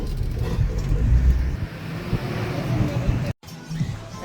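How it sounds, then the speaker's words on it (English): Bus pulling up on a city street in El Salvador, a loud close engine rumble with passing traffic noise and some background chatter, cut by a brief dropout near the end. "The bus is coming."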